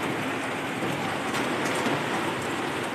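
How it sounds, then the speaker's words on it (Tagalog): Heavy rain pours steadily outdoors as a dense, continuous hiss, loud and close, with no voices. "Tapos malakas yung ulan."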